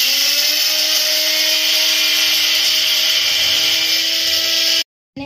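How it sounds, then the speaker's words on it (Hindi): An electric grinder whirs loudly and steadily as it pulverizes dry ginger powder, nutmeg and cardamom, holding a high, even whine for about five seconds before cutting off abruptly. "मैं इसे अच्छे से ग्राइंड कर रही हूँ।"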